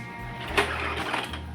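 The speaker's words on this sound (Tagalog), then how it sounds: "Ito na po ang ating printer. Naka-ready na siya. So print po tayo ng isa." Mechanical whirring and clicking of an Epson L120 inkjet printer feeding and printing a page, close and steady with a couple of brief louder clunks.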